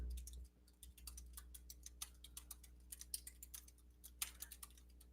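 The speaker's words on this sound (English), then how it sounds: "Let me see if you guys can hear me typing." Fast, irregular clicking of computer keyboard keys being typed on in a classroom, close to the microphone, with a steady low hum behind and no talk.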